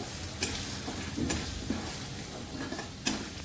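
Ground cumin, coriander and chili powder fry in a pan for a kakrol dalna, a close steady sizzle punctuated by a few distinct scrapes and taps of a spoon stirring against the metal.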